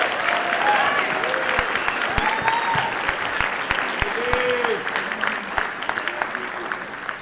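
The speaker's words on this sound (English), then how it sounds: "can you give them one more tremendous round of applause?" Audience applause fills a school band winter concert hall, steady and sustained for several seconds, with a few sharper claps and bits of voices and cheering mixed in.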